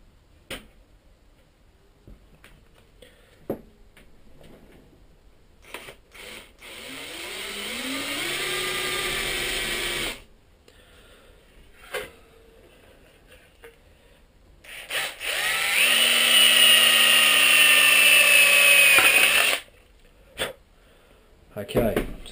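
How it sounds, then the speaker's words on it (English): A power drill whirs in two bursts while boring a pilot hole, revving up and running steadily for a few seconds each, with clicks and handling noises in between. "we'll make our first little pilot hole with a pilot hole drill"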